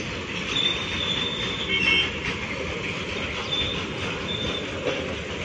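A long freight train carrying coal passes a nearby level crossing with a loud, continuous rumble of rolling wagons and occasional high wheel squeals, heard close throughout.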